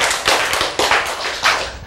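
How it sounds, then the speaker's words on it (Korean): An audience at a lecture on cancer treatment claps in a brief burst, with several sharp, uneven hand slaps standing out close by. "박수!"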